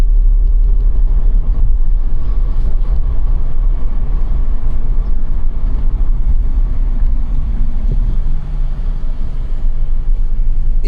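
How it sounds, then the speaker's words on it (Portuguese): A bus and cars pass along a town street in rural Rio de Janeiro state, a loud continuous rumble of engines and tyres rolling close by, with no talk over it. "Esse ônibus daí, pessoal, tá indo pra Magé, tá vendo?"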